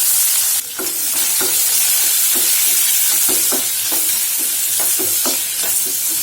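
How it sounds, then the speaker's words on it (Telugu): Chopped onions fry in hot oil with tempering spices for a green beans curry, a steady loud sizzle running throughout with repeated clinks and scrapes of a spoon stirring the pan. "ఈ పోపు ఫ్రై అవ్వగానే తరిగి పెట్టుకొని ఉల్లిపాయలు వేసుకోవాలి"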